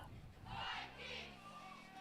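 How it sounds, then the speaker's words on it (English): Crowd at a high school football game (McMinnville vs. North Salem) rising in a brief swell of cheering and yelling, with a voice or two breaking through the roar. "you hear the crowd now getting into it"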